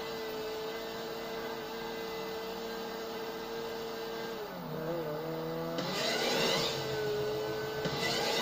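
Race cars in a video game race drone steadily with a constant engine hum, then rise in pitch as one revs and accelerates, with a brief swell of noise near the end.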